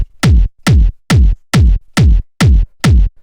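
Seven deep, punchy industrial hard techno kick drum hits land in an even, relentless pulse, each one loud and fat with a brief low boom, heard alone.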